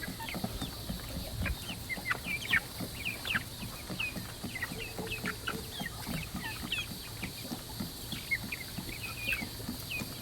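Chickens in a chicken tractor cluck and chirp continuously at moderate distance, a busy flock chatter of short repeated calls with soft background noise and no talking.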